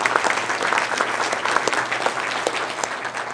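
An awards ceremony audience applauds its sponsors, a dense, even wash of many hands clapping that fills the hall steadily throughout, fairly loud and unbroken by voices.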